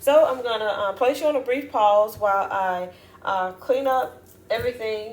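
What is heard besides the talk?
None of the usual background noises is heard.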